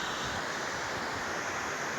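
Stream swollen after several days of rain, rushing in a steady, close broadband roar with no pauses and no voices over it.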